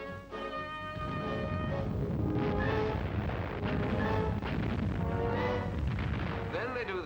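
Coal dust deliberately ignited in an artificial mine gallery during a 1949 British explosion test, a sustained loud roaring rumble lasting several seconds under a narrator's voice.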